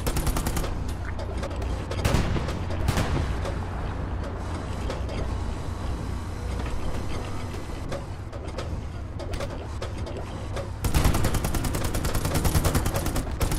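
Video game combat on a tank map plays out with continuous rattling gunfire and bursts of automatic fire, dense and loud throughout, with a sharper heavy burst near the end suggesting artillery impacts.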